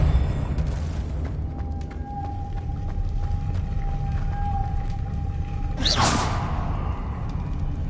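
Depulso force-push spell cast in Hogwarts Legacy, a single broad whooshing blast near the end, loud and up close, layered over a steady game ambience with a thin sustained tone running beneath.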